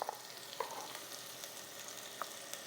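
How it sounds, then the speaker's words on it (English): Onions, garlic and ginger frying in hot oil give a steady, dense crackling sizzle, with a few brighter pops and light utensil clinks standing out now and then; the sound is fairly quiet and close, with no talking. "I'm going to be adding some onions and some garlic and ginger"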